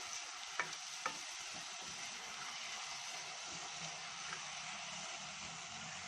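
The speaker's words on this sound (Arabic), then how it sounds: "نقلب السكر كويس معاها علشان تشرب من السكر." Sugar is stirred in a hot pan for a quick dessert, giving a steady, soft sizzle throughout, with a couple of light scraping clicks early on.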